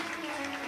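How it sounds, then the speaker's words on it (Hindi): A short burst of crowd applause at a Shiv Mahapuran religious discourse gathering, a steady wash of many hands clapping, loud and continuous throughout. "एक बार जोरदार ताली बजाकर साधु"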